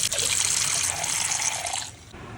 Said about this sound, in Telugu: అలా గిన్నెలో వాటర్ పట్టేసుకొని వంకాయల్ని మొదట కడుగుతున్నా.